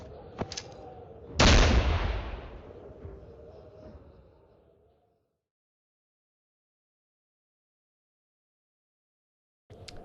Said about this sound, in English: throw it further away and it explodes on impact